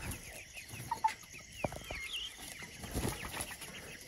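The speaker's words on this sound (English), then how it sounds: "There's all the chicks" Chicks under a heat lamp on a farm cluck and peep softly in scattered bursts over a steady night background of insects, faint and somewhat distant, with no talk.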